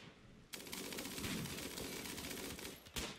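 Sniper and bolt-action rifle fire in the RimWorld video game crackles as a dense, steady volley of rapid gunshots, starting abruptly and running continuously at moderate loudness with a final sharp shot near the end.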